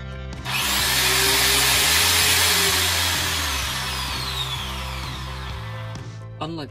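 An old power drill bores holes into a steel pipe being made into a jet engine flame tube, a loud steady whine with a slowly shifting pitch that runs nearly the whole time before stopping at the end.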